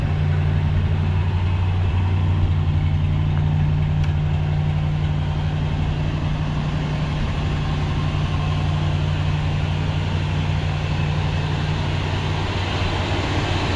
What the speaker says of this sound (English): I think I'll just leave it neutral while it sits here and warms up